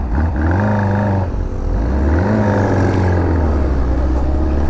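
A motorcycle with a Honda Hornet 600 engine and a two-into-one exhaust revs loudly and close by, the engine note climbing twice in strong, drawn-out surges as it passes.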